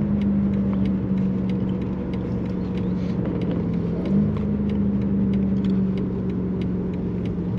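Steady, low engine drone from inside a BMW M5CS lapping the Nürburgring, a sustained rumbling hum with slight shifts in pitch as it pulls through corners, continuous and moderately loud with no talking.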